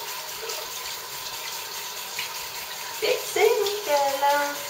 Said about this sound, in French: On rince bien par contre pour enlever bien le côté huileux.